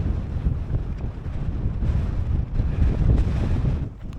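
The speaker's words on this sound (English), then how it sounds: "we've got constant wind speeds of 20 mile an hour, gusts of around about 24 mile an hour" Strong gusty wind of around 20 mph buffets a Fjallraven tent from the side, a loud low rumbling roar with surging gusts and heavy flapping buffeting against the microphone, steady and without talk.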